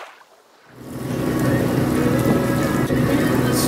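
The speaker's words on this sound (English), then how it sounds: "we're motoring into like a 20-knot wind this whole freaking way" A sailboat motoring down the intracoastal waterway into a 20-knot headwind and strong current, a steady loud roar of wind and engine rising after a quiet first second and holding constant.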